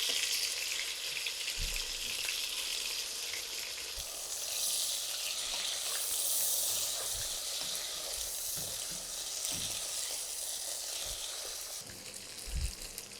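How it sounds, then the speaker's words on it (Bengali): Chicken pieces, marinated with salt and turmeric, sizzle steadily in hot oil in a pan, a dense continuous crackle with a few soft low thumps from stirring or shifting pieces. "চার 5 মিনিট আমি এই চিকেনটাকে ভেজে নিয়েছি।"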